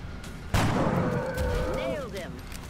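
A sniper rifle firing in XCOM: Enemy Within, one loud sharp report followed by a sustained rumbling tail, with a few tonal game effects sweeping afterward.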